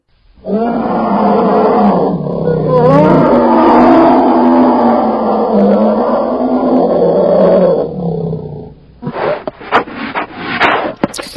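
A cartoon-style bear roars in one long, loud, sustained growling bellow lasting several seconds, then trails into a few shorter snorting grunts at the end.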